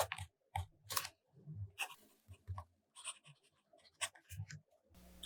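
Fountain pen nib scratching across paper in short separate strokes with pauses between, written in Platinum Carbon Black ink, close and fairly quiet with no talking.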